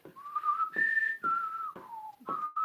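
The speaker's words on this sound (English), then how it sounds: "I can't whistle when somebody else whistles." A person whistles a short tune alone, several clear sustained notes in a row with brief breaths between, close and fairly loud.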